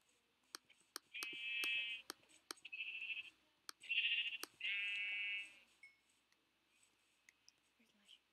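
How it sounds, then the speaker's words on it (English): Minecraft sheep bleats, four distinct nasal baas in quick succession, loud and close, over sparse game clicks and footsteps in an otherwise quiet scene. "Here's the sheep."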